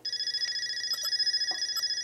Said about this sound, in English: It's working. There's the ring.